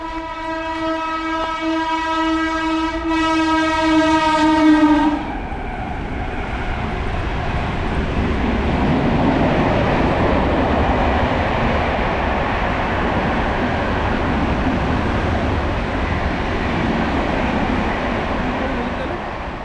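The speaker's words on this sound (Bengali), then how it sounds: "এই তো আসছে ট্রেন এক্সপ্রেস ট্রেন আসছে" A loud train horn sounds for several seconds, then a fast express train roars past Duan railway station with sustained rumbling and rattling, close by.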